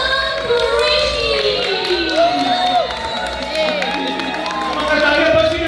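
Crowd at a meet-and-greet event in Calgary, Canada cheering, whooping and clapping continuously, with shouted voices over the steady applause.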